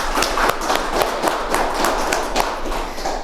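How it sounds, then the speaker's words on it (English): Steady applause from a morning audience at a Rotary Club speech contest, dense claps filling the room at an even loudness throughout, with no one speaking over it. "Can we give her another round of applause, please?"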